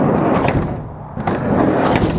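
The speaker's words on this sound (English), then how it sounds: "Sliding door." Sliding side door of a 1979 Dodge B100 shorty van being shut, a loud close-up rumbling slide ending in a heavy thud partway through, followed by continued rattling movement.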